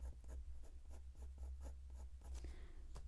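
Coloured pencil laying down fur strokes on paper while layering a realistic dog's coat: close, dry scratchy strokes repeating in a quick, fairly even rhythm for about three seconds, with no talking.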